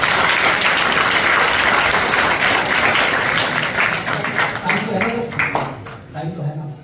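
Audience applause at a yoga talk, a dense steady clapping that carries loudly for several seconds before thinning out and fading toward the end.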